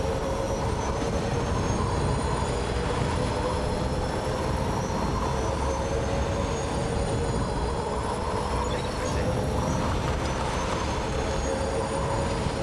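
A monorail in Death Stranding 2 runs with a steady, continuous rumble and a faint high whine on top, holding unchanged throughout.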